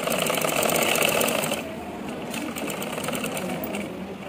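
Sewing machine running a top stitch along the V-shaped neckline of an anarkali frock, a close, steady whirring hum with fast needle chatter that eases slightly partway through, heard alone without speech.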